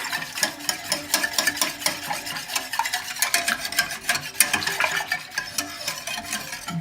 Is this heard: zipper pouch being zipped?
no